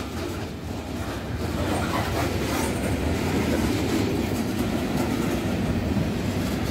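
A train rolls steadily past on the rails, a continuous rumbling roar with faint clacking, moderately loud and sustained throughout.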